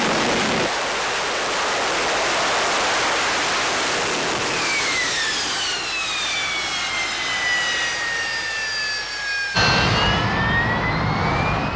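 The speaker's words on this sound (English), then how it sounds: "once you're in a steady state hover, the reaction control vents on the nose, wingtips, and tail of the airplane provide you some factor of stability" A Harrier jet holds a steady hover, its engine a loud, roaring blast with a high whine that glides downward, near and continuous.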